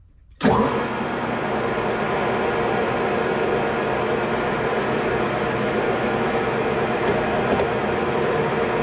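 A boring machine line-boring the cylinder of a Hit & Miss engine starts abruptly, then runs with a steady, loud mechanical drone and hum throughout, with no talk.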